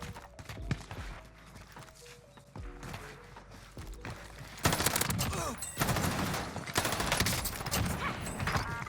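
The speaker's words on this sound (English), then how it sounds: "They're shooting at me." Gunfire in Call of Duty Warzone on Rebirth Island: dense bursts of automatic fire and rapid single shots, loud and close, growing heavier and more continuous in the second half with overlapping volleys.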